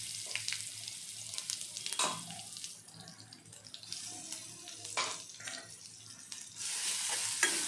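Ground green chillies and garlic sautéing in hot oil in a pan, with a steady loud sizzle broken by scraping stir strokes and utensil knocks.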